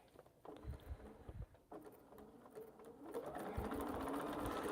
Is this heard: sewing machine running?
yes